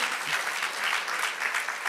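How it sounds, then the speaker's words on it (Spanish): A church congregation applauds for the Lord, a brief, dense burst of clapping from many hands with murmured voices underneath. "dale aplauso al Señor"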